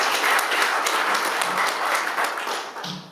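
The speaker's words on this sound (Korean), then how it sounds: "여기서 박수 한번 쳐주세요." Applause from an audience at a Kim Dae-jung Foundation Atlanta chapter launch event, a steady wash of clapping that fades slightly toward the end, with no talk over it.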